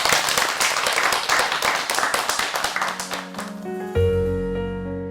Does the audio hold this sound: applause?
yes